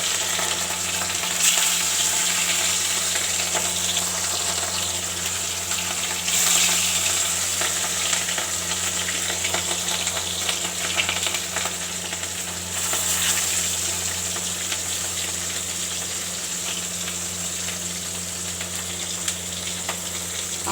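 Katla fish pieces fry in hot oil, giving a loud, continuous close sizzle and hiss with brief surges as pieces are added or shifted, under a steady low hum.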